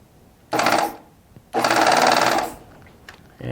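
A Baby Lock Triumph serger sewing a decorative stitch with thick thread through the upper looper: two loud rapid mechanical bursts, the first short and the second longer, separated by a pause, then starting again.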